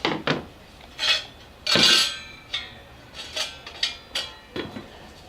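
Light metal clinks and knocks from handling an Ikea hobo stove, a small metal camping stove, in a run of separate close handling sounds with short bright rattles between quiet gaps.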